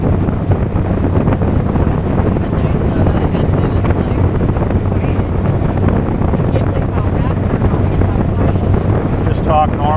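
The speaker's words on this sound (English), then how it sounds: "Just talk normal volume right over the engine." A 75 hp Mercury four-stroke outboard drives a Tracker Grizzly 1754 SC aluminum boat, a steady even engine drone with wind buffeting the microphone throughout, people speaking over it.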